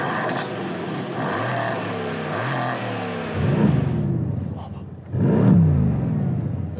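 A Mercedes-AMG C 63 S V8 engine starts and revs up loudly in several rising surges, close by, with a deep throaty roar between bursts.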